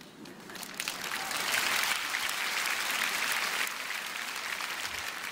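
Audience applause at a church prayer gathering swells within the first second, holds as steady, fairly distant clapping, then eases slightly toward the end.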